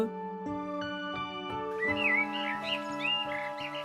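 Cartoon birds chirp and whistle in bright, rapid trills over a sustained musical background, with sharp plucked accents in the first half and livelier chirping toward the end.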